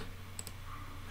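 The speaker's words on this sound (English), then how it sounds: "Double click to install." A quick mouse double-click to launch a VST plugin installer, two crisp close clicks in rapid succession over faint background hum.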